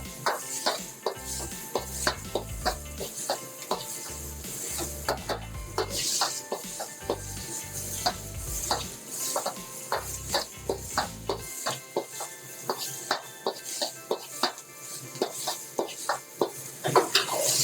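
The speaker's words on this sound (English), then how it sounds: "We're gonna add in our onions and give that a stir." Onions sizzle in hot oil in a wok while being stirred, a close frying hiss with a quick series of sharp metallic scrapes and clanks from the utensil against the wok.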